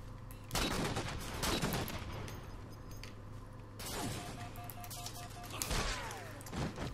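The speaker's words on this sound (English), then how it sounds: "All right, beam rifle easy mode, engage. Well, you gotta hit the shots." Beam rifle sniper shots in the video game Halo 4 crack out in several loud, sharp bursts spaced a second or two apart, with a steady in-game hum underneath and no talk over them.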